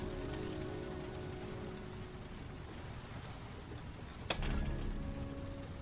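Steady rain falls outdoors with a constant hissing patter, joined near the end by a sudden sharp clatter and brighter noise, with no voices.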